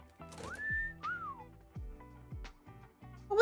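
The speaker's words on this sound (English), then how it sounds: "What was the whistle all about?" Whistled notes play in GameStonk Simulator: a rising then falling whistle, followed by a few short pitched blips and thumps spaced through the quiet background.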